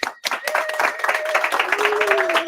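Applause for Rebecca at a book release celebration, a dense burst of clapping with some vocal tones and crowd noise mixed in, starting abruptly and continuing steadily.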